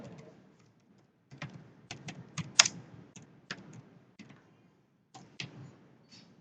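Someone types a website domain name on a computer keyboard, producing scattered bursts of crisp key clicks separated by short pauses, close and fairly quiet in an otherwise silent room.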